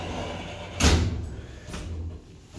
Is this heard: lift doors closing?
yes